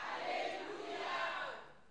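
A church congregation shouts together in a loud, sustained collective cry that fades slightly toward the end, with no clear individual voice.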